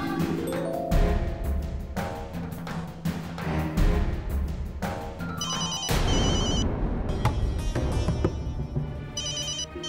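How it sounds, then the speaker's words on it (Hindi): A telephone rings on and on unanswered in a Hindi family drama, a steady repeating ringtone that carries alone without talk over it. "क्या यार बाबी डियर, आप मेरा फोन क्यों नहीं उठा रही हो?"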